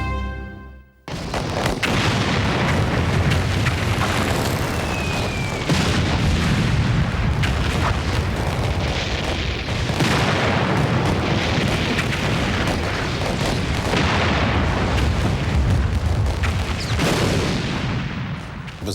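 A dense, continuous World War I artillery barrage of shells fires without pause, with overlapping heavy booms and rumbling blasts, loud and sustained throughout, with no voices.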